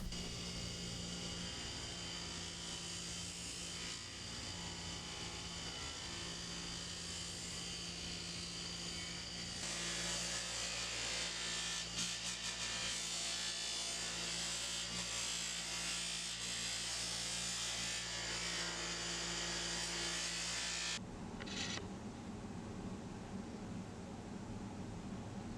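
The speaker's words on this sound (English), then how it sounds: "Now I'll buff the scales using some white compound and some green compound." Knife handle scales, hand-sanded to 600 grit, pressed against a buffing wheel loaded with white and green compound: a steady, loud motor whine with broadband rushing friction noise that runs continuously, shifting slightly in tone partway and near the end.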